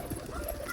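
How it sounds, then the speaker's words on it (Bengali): Pigeons coo softly as they gather to be fed, a short low burbling call at close range over faint background noise, with no talking. "দেখো সব পায়রাগুলো এই যে আসছে"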